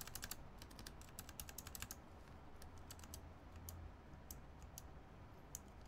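Typing on an HHKB keyboard fitted with Alps switches, a steady run of crisp, slightly clicky keystrokes close up over a low hum, with dense bursts at the start and scattered taps after.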